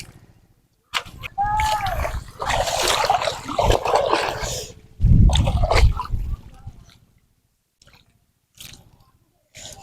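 Caught boal fish being washed of pond mud in water, wet squelching, sloshing and splashing handled up close, in bursts with quieter pauses and a few drips near the end, with a voice briefly heard.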